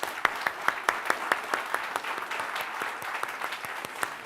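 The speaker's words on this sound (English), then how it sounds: "Let's give a big round of applause for our amazing judges" Audience applause for the judges at a Demo Day 2022 event: a steady patter of many hands with a few sharper, louder claps standing out, lasting throughout at moderate level.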